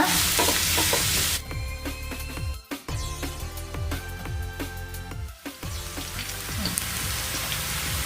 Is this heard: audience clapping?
no